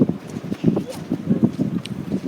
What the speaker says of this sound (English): It's really windy and I'm scared.